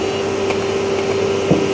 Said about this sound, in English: go ahead and turn the motor off for the vacuum, and then turn our vacuum off for this